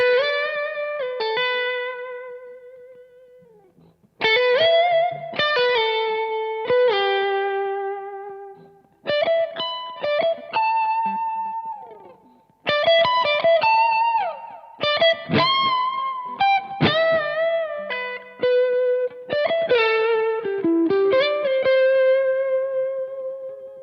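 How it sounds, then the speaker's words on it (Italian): An electric guitar lead played through a Headrush MX5 with mild distortion and tape delay, sustained singing melodic notes and bends with echoing repeats, alone and up front. "Aumento un po' la distorsione e aggiungo anche un bel delay tape"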